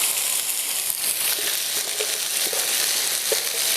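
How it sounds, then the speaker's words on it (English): Corn dropped into a hot pan with oil just below smoking point sizzles loudly and steadily, a dense, hissing fry that stays at full strength throughout, with faint scraping sounds underneath. "Oh yeah, hear that lovely sizzle."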